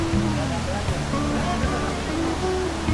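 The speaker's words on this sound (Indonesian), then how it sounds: "Suara air terjun atau curug ini begitu kencang, jadi deras sekali sepertinya." A loud, steady roar of rushing water from a waterfall fills the clip, dense and constant, with a voice speaking Indonesian over it.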